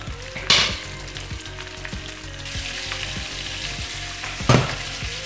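Broccoli frying in a pan with only a little water, giving a steady sizzle broken by repeated scraping strokes of a utensil as it is stirred, close and clear with no voices.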